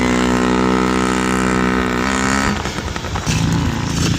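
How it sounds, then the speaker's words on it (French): Several small motorbikes racing, their high-pitched engines whining loudly and steadily together, then breaking into a rougher, fluttering revving as they pass close by. "il y a carrément une course de petites motos"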